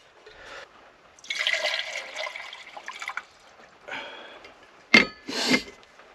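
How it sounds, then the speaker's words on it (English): Water poured by hand into a coffee maker at a rainy rooftop-tent campsite, several uneven splashing and trickling bursts with brief pauses, ending in two sharper close gushes. "I'm gonna have to pour water in here."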